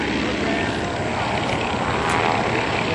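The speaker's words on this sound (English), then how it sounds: "A precision 4-point hesitation roll, stopping the airplane every 90 degrees." Propeller airplane engine droning steadily and loudly through a precision four-point hesitation roll at an air show, a continuous broad roar with slight swells and no pauses.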